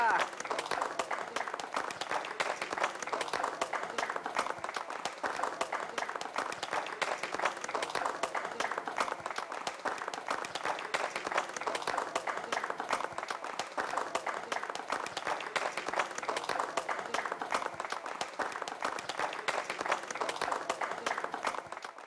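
A large audience claps steadily for about twenty seconds, a dense, even wash of applause that never swells or fades, with a faint murmur of voices underneath.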